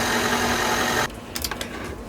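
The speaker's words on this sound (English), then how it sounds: "I wanna give this a quick mix, just to blend" An electric mixer runs steadily on dry cake ingredients including flour, a loud even motor whir for about a second before cutting off, followed by faint clinks and handling sounds.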